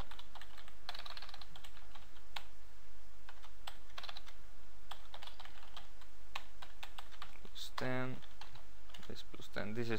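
Code is typed on a computer keyboard, an irregular run of fast, close key clicks with brief pauses and a short burst of rapid strokes near the end, while someone talks quietly.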